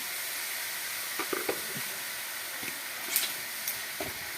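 Carrots fry in a pan after salt goes in, a constant close sizzling hiss with a few scattered taps and crackles and no talk.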